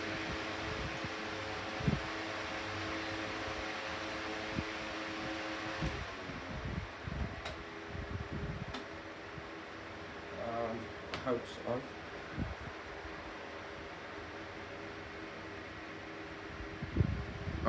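A Bionaire 16-inch pedestal fan runs on low with oscillation, a steady soft airy whoosh close by, with occasional clicks and rustling handling noises over the constant hum.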